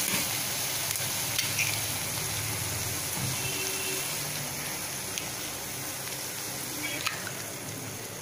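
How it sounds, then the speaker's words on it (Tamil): Egg bread masala sizzles and fries steadily in hot oil with tomatoes as egg is added. The hiss is constant and close, with occasional stirring scrapes and a voice speaking over it. "தக்காளியை சேர்த்துட்டு நல்லா எண்ணெய் பிரிஞ்சு வர நல்லா வதக்கி விட்டு இப்போ நம்ம எக்கை சேர்த்துடலாம்."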